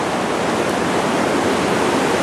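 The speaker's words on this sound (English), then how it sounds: "The water is just lapping up on everything." Flood water rushes across a riverside meadow in a steady, dense roar with no breaks and no voices.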